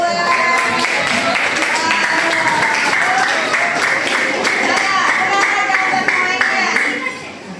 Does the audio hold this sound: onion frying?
no